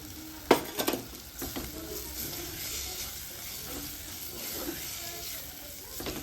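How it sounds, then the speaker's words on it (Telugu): Raw prawns sizzle steadily in a hot pan, with a few clattering stirs and scrapes near the start, close and moderately quiet. "ఇప్పుడైతే ఇలా రొయ్యలు వేసేస్తున్నా"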